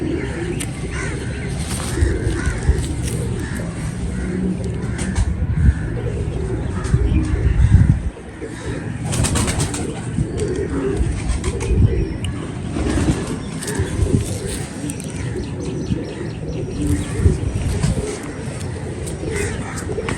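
Pigeons coo among other birds, with crow-like caws mixed into a busy, fairly loud outdoor soundscape of rustling and low rumbling that continues throughout.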